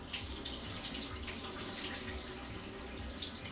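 Water runs steadily from a kitchen tap as chickpeas are rinsed, a continuous close splashing hiss with no talking over it.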